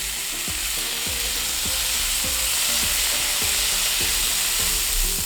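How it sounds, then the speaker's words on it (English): Drained canned chickpeas crisp up with spices in a pan, a loud, constant sizzle broken by regular scraping strokes of stirring, close up with no talk. "I'm just gonna cook to kind of crisp up the chickpeas a little bit."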